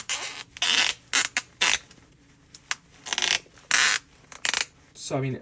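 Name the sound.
creaky joints of a Penguin action figure being moved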